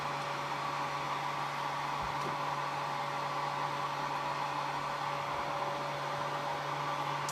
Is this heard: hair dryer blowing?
yes